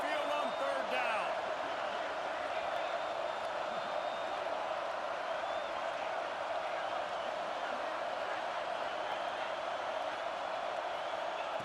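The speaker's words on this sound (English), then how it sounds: "The Tide crowd rolling noise down onto Saban Field on 3rd down." Third-down roar of the Alabama Crimson Tide home crowd at a college football stadium, a dense, sustained wall of distant cheering that holds steady and loud throughout.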